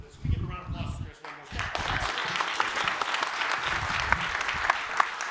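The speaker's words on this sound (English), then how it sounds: "We give a round of applause for Chris one" A conference audience gives a speaker a round of applause. A voice talks briefly at first, then full clapping swells in about a second in and continues steadily, dense and fairly close, to the end.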